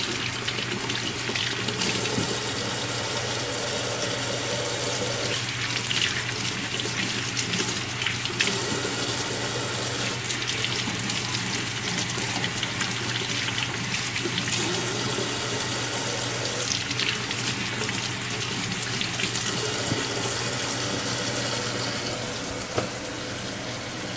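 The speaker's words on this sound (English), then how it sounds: "I got some fresh vegetables that we can wash here" Kitchen tap runs in a steady, loud, continuous gush while fresh radishes and backyard-grown tomatoes are washed in the sink, with faint splashing shifts as the vegetables move under the stream.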